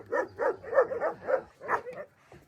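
Several dogs bark and whimper close by in a greenhouse setting, with a quick run of yips and barks followed by softer whining that fades out toward the end.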